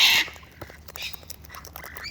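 Wild birds give a loud squawk up front, then scattered softer chirps and calls continue close by while being fed a snack.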